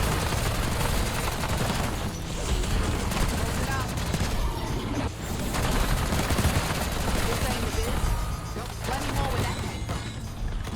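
Ray gun firing in Black Ops 6 Zombies at round 50, rapid energy shots blending into dense, loud game combat noise with zombie kills and explosions throughout, continuous and busy.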